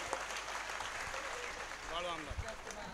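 A crowd at a gathering honouring guests breaks into applause, a dense wash of clapping under a presenter's voice that keeps talking over it.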